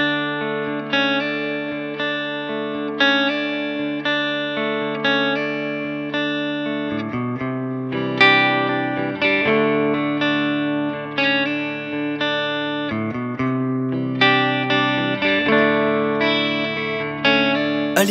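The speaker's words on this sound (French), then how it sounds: "Si on active la reverb sur ce canal et qu'on change de guitare, on obtient un son bien doux pour vos instants fragiles." An electric guitar plays soft, clean chords through a Mesa Boogie Triple Crown TC-50 amplifier with reverb switched on, each strum ringing out and decaying smoothly in a gentle, spacious tone.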